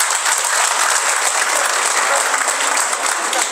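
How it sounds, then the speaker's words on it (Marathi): A large crowd at a political rally in Solapur claps loudly and steadily, a dense, continuous applause that holds at full strength throughout with no voices standing out. "एकदा जोरदार टाळ्या वाजवा त्यांच्यासाठी"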